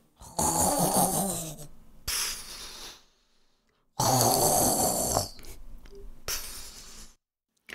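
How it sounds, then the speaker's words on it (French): Loud, exaggerated snoring in a slow rhythm, with long raspy inhales and hissing exhales separated by short pauses, close up. "Son ronflement fait trembler la maison"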